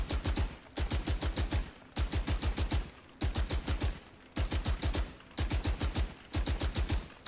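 Phantom rifle fire in the tactical shooter VALORANT: six rapid bursts of automatic gunshots, each a tight rhythmic string of five or six sharp punchy shots, separated by brief pauses, close and loud with no voices.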